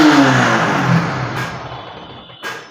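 A Yamaha R15 motorcycle engine revs up loudly close by, then settles back as the revs fall, with a couple of short clicks near the end.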